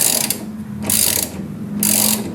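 A ratchet fitted with a 14mm socket tightens a pedal bolt on a GIO electric scooter, making close, fast clicking runs in three bursts with short pauses between strokes.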